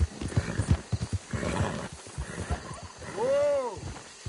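A horse gallops in Red Dead Redemption 2 with a run of quick hoofbeats, then a loud whinnying neigh near the end, while a rider calls out over it.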